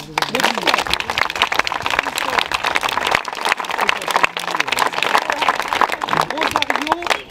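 An audience at an arts and crafts trades fair applauds boilermaking students from a vocational high school in Bergerac, steady dense clapping under a voice speaking over it.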